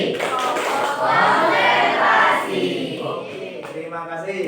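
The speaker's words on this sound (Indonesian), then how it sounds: "Bapak ingin tepuk konsentrasi." A classroom of students claps out a rhythmic concentration pattern in a teacher-led drill, the sharp patter mixed with chanting voices and staying fairly loud throughout.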